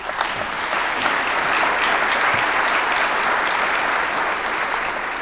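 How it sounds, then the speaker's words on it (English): A conference audience at a general session applauds its speakers, a full, steady round of clapping from a large room that sustains loudly for over five seconds. "one more round of applause for all of our speakers"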